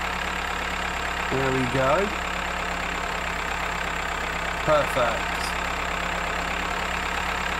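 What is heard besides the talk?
tractor with mower running in video game Farmer's Life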